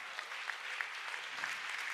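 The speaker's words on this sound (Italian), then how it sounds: "Grande tifo." Steady applause fills a hall at an economy and development award ceremony as a prize winner comes forward, even clapping from an audience at moderate distance with a few sharper claps standing out.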